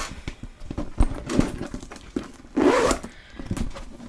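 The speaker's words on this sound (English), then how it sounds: "There's the double zip." The double zipper on a Louis Vuitton Speedy Bandouliere bag is worked: several short, close zipping rasps and clicks, with one longer pull near the end.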